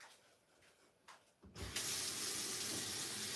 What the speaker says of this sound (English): Just going to put my stencil in the water.